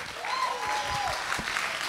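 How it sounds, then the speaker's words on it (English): Continuous applause from a church congregation fills the clip, a steady wash of clapping with a faint tone drifting above it. "Give Jesus a round of applause."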